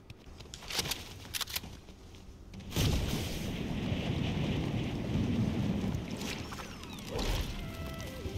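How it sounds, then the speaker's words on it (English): A loud Fortnite glider rushes through the air in mid-flight, a steady broadband whoosh of wind that swells abruptly after a few quieter moments with brief knocks, then holds roaring and continuous to the end. "This glider is very loud."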